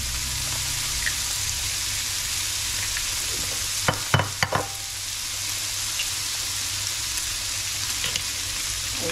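Smoked bacon fries in a pan with a steady, close sizzle and crackle, a few sharper pops and spatters rising briefly in the middle.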